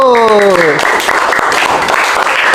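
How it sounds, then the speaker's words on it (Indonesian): Students in an Islamic education classroom applaud a group after its discussion, a loud, close burst of clapping that starts under a brief voice and continues steadily. "Oke, kita tepuk tangan untuk kelompok biru."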